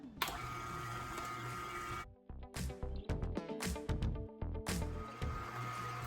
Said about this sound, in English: We're gonna turn our juicer back on.